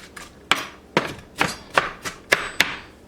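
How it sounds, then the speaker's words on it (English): Freshly sharpened kitchen knife chopping on a board, about seven crisp, evenly spaced chops in quick rhythm, close and clear with no talking. "Chop it, chop, chop."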